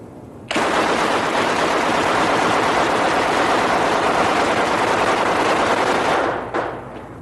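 A gun with a removable stock fires a long, continuous, loud burst of automatic fire lasting about six seconds. It stops abruptly, leaving a brief trailing echo.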